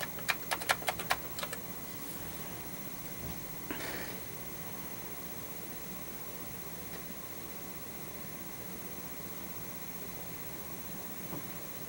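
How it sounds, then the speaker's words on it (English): A quick burst of computer keyboard keystrokes at the start, then a single brief clatter a few seconds later, faint over steady room hum. "I'm just going to type real demo."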